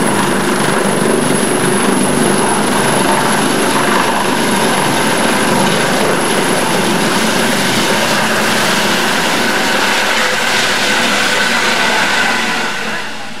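A navy ship's helicopter roars loud and close as it lands and lifts off from the deck. Its rotor and engine noise hold steady throughout, with no voices.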